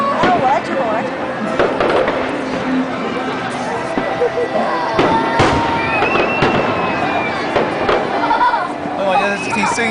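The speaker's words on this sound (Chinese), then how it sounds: "我觉得挺声音大的，然后烟火没多少" Canada Day fireworks boom and crackle repeatedly at a distance outdoors, loud bursts rolling through the night while a crowd chatters and people nearby talk over them.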